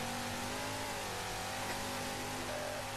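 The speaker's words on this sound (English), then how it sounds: "the new Warthog." Warthog vehicle engine in the Halo 4 video game, a steady droning growl held at an even level for the whole stretch, loud and close with a hissing wash over it and no speech.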